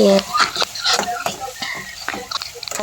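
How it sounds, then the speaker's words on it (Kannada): Ginger-garlic paste frying with tomatoes in a pan, stirred with a spatula that scrapes and taps over a crackling sizzle, close and fairly loud, with a short burst of speech at the start. "ಪೇಸ್ಟ್ ಹಾಕಿ ಫ್ರೈ ಮಾಡ್ಕೊತಾ ಇದ್ದೀನಿ"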